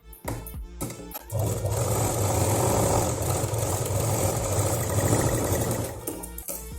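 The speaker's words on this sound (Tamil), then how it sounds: "லைனிங் கிளாத் அது மேலே வச்சுட்டு இங்கேருந்து இங்கே வரைக்கும் ஒரு தடவை தையல்" A sewing machine runs in one sustained, steady whir while stitching lining cloth for a ladies' handbag, close and loud, preceded by a few short starts and clicks and fading off at the end.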